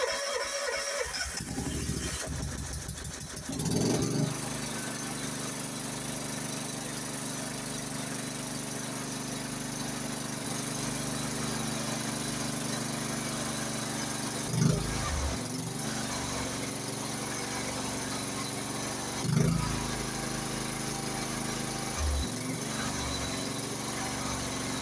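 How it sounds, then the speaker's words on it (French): Kubota lawn tractor engine cranking and catching with the choke set, then running on at a steady, fairly loud drone, with a couple of brief bumps and surges along the way. "Donc c'est un moteur qui fonctionne."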